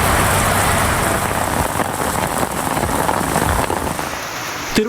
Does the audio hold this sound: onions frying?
no